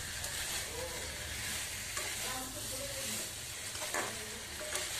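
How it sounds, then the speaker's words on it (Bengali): Chilli and ginger paste frying and being stirred in a pan, with a steady sizzle, a spoon scraping and stirring, and faint background voices. "পুনরায় ভালো করে নেড়ে চেড়ে মিক্স করে নিতে হবে।"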